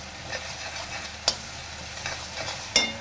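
A coarse ground mixture of cumin is stirred in a pan, giving a quiet continuous scraping and faint sizzle, with two sharp clinks of a spoon against the pan.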